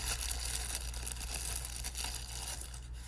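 Close, soft crinkling and rustling of a thin plastic bag being opened while unboxing a Seiko Prospex SPB288 dive watch, over a low steady hum, continuing without pause.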